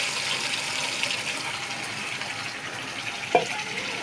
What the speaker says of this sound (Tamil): எண்ணெய் ஊற்றிக்கலாம்.